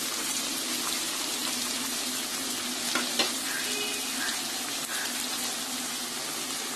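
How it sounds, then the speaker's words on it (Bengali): Prawns fry in hot oil with vegetables for prawn fried rice, making a constant crackling sizzle like rain, with a couple of brief utensil taps and no voices. "চিংড়িগুলো আমি 3-4 মিনিট ভেজে নিয়েছি"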